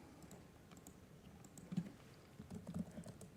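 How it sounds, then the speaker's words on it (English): Soft, rapid keystrokes on a computer keyboard as a comment is typed into CRM software, a steady close-up patter that picks up slightly toward the end, heard alone without voices. "If I can type."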